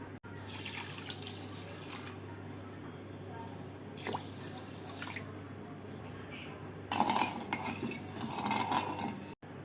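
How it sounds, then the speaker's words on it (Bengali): Sugar and water are added to a kadai for sugar syrup, heard as bursts of pouring and splashing water with light metallic clinks of utensils, separated by quieter stretches. "চিনির রস তৈরি করার জন্য কড়াইতে দিয়ে দেবো এক কাপ চিনি আর দেব দেড় কাপ জল"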